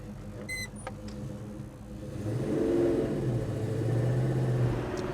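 A 1971 Chevrolet Chevelle SS engine rumbles and rises as the car pulls away, the revs climbing and holding steady at moderate volume, with a few brief clicks early on.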